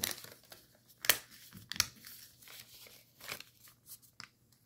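Soft crinkles and sharp paper crunches come in irregular bursts as a sheet is squash-folded while making Jayson Merrill's Shadow origami fighter jet. The sounds are quiet and close, with brief pauses between the handling noises.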